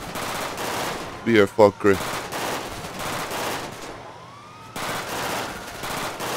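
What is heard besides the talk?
gunfire in the video game GTA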